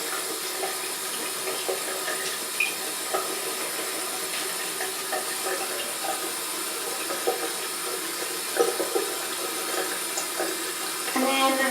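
A makeup brush is scrubbed in soap and rinsed under a running tap, giving a steady hiss of flowing water with small splashes and rubbing noises, close and continuous.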